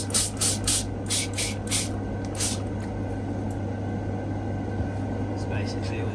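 2K paint spraying onto a 1/24 scale Aoshima Range Rover model body, several short hissing bursts near the start and then a steady airy hiss, with a low constant hum underneath.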